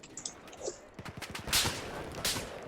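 Sniper gunfire during a Battlefield 4 match: a couple of sharp, loud cracks stand out amid scattered lighter shots and game ambience, with no talking.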